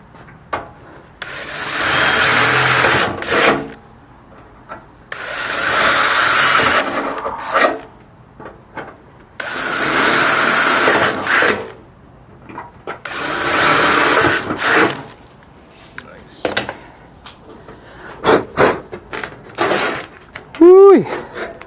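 A Dremel rotary tool grinds holes into an old Dell computer case in a garage, making several long harsh whining cuts with pauses between them, loud and close, followed by clattering handling noises and brief talk.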